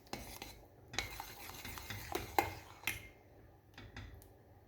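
Butter being stirred into hot cooked custard cream for a no-bake Napoleon dessert, with a spoon scraping and clinking against the pot in irregular strokes at close range, no talking.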